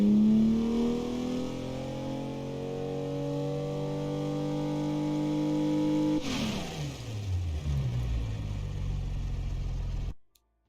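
A car engine at full throttle with a compressor, a loud sustained roar that holds its pitch, then drops away sharply, rumbles lower for a few seconds and cuts off abruptly.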